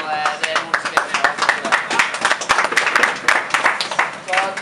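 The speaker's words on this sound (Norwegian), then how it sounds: "Så det er veldig viktig å ha det i en stor applaus nå, når det er noen som vinner." Audience clapping for prize winners at a Norwegian awards moment, with dense, irregular hand claps that stay loud and steady for several seconds while a voice talks over them.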